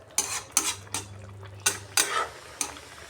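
Metal spoon clinks and scrapes several times against a cooking pot while stirring potatoes and rohu fish with bathua greens, six sharp, close knocks at irregular intervals over a faint low hum.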